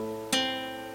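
A single plucked note or chord on a nylon-string guitar, picked with thumb and fingers, rings out with a soft attack and a long, slowly fading sustain, close and alone.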